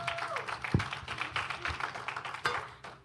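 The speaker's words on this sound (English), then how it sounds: "Please give yourselves a round of applause" An audience at an evening event claps briefly, uneven patters of hands at moderate distance with a few sharper individual claps, fading toward the end.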